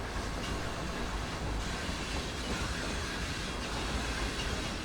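Train in the game Constracktion clanking along its tracks at a 10 mph limit, a steady rattling rumble with faint metallic clicks running throughout, no voices.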